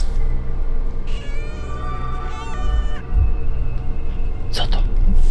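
A cat meows repeatedly in a barn on a farm at night, several drawn-out calls rising and falling, fairly near and clear against a steady low background hum.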